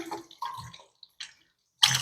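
Tap water gushes in a bathroom of a maisonette ensuite, a broad steady rush starting abruptly near the end after brief gaps, preceded by quieter scattered sounds and soft voices.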